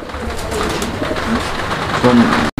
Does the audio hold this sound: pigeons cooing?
yes